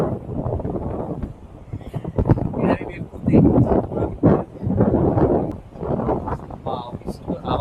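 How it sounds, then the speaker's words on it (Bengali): Strong wind gusts buffet the microphone at a seaside beach resort under a cloudy sky, a continuous low rushing roar that swells and dips throughout, with indistinct voices mixed in. "আজকে আকাশটা একটু মেঘলা মেঘলাও আছে, ওই জন্যই এত হাওয়া আর দিচ্ছে"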